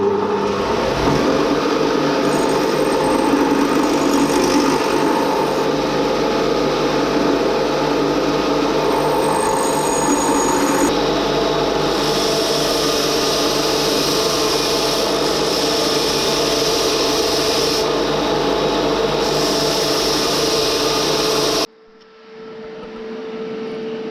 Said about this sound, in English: Going to grind the tabs off until that can push all the way in to where it needs to be.